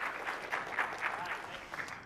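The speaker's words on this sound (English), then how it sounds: "Applause for Ryan, please." Light applause from a small tech conference audience, steady scattered clapping close by and moderately quiet for about two seconds.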